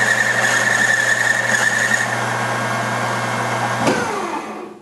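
Lathe running an outside machining operation on a workpiece, a loud steady motor drone with a high tonal whine, winding down in the final second.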